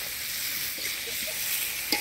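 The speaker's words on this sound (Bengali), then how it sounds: "মশলার সাথে আলুটা ভালো করে কষা নিলাম" Boiled potatoes being stir-fried in spice masala in a pan, a dense continuous sizzle with soft stirring scrapes and a brief clink near the end.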